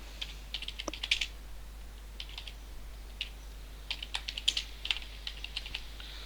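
Quick, irregular keystrokes on a computer keyboard while entering labels into an MS Excel sheet, soft and fairly close, coming in short bursts with brief pauses and no voice over them.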